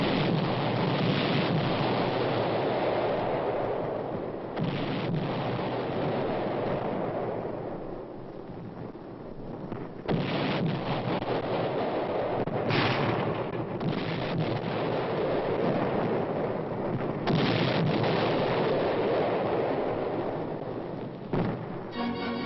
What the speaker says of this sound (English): the infantrymen prepare to blast the Reds from still another hilltop with coordinated fire